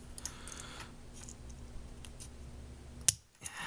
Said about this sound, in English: This plastic is so thin it can actually be snipped with scissors